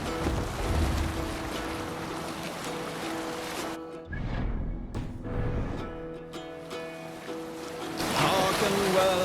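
A Viking longship sails the open sea in Assassin's Creed Valhalla, with a steady wash of waves against the hull and wind. The sound thins briefly midway, then swells louder again toward the end.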